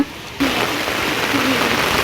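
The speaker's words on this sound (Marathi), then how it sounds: "मस्त आणि जोरदार पाऊस पण आलाय" Steady heavy rain hisses loudly, starting abruptly after a brief quiet moment and continuing as a dense, constant wash of noise.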